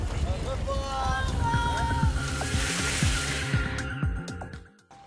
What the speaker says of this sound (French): On entend déjà le bruit des vagues.